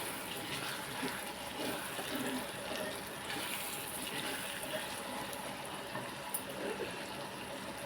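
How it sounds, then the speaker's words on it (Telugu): Milk poured into a simmering bottle gourd curry in a pan, making a steady, continuous liquid pouring and bubbling hiss that stays even throughout, with no talking. "ఇందులోప్పుడు నేను పాలు వేసి చూపిస్తాను"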